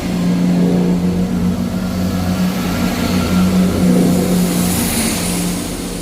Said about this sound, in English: out now is the 11:28 Scotrail service from Edinburgh Waverley to Leven